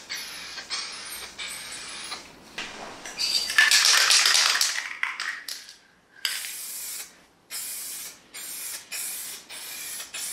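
Spray-on rim dip hisses from an aerosol can onto wheel rims in repeated bursts, some short and some sustained, close and loud, with brief pauses and faint clicks between passes.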